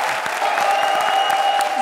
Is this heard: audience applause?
yes